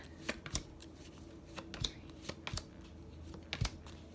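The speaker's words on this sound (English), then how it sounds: "We'll just do a quick one here to show you" A deck of tarot cards is shuffled close by: quick riffling bursts and soft slaps repeat irregularly against a quiet background.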